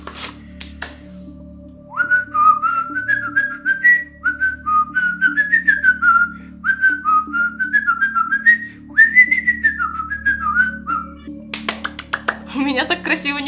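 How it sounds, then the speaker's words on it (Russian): A man whistles the Mickey Mouse melody in bright, repeated phrases near and clear, with brief clinks at the start and end and a faint steady hum underneath. "это точно вы свистели ту мелодию Микки Мауса?"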